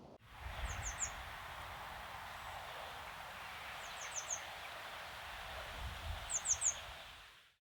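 Three brief bursts of sharp, high chirping calls from grey wagtails stand out at intervals over a steady rushing background of flowing water.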